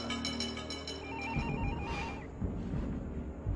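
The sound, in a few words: telephone ringing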